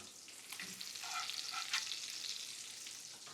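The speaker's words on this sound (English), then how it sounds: "now that the butter is getting nice and brown, I'm gonna pull it into one corner and just kind of baste over the top the raw side of the fish" Fish fries in browning butter in a pan, giving a steady, soft sizzle and crackle with brief spitting bursts as the butter is basted over the raw side, with no talking.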